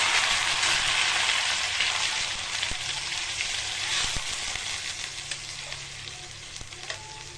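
Nigella seeds and bottle gourd leaf paste frying in hot oil in a pan: a steady, close crackling sizzle with occasional stirring taps and scrapes, gradually softening.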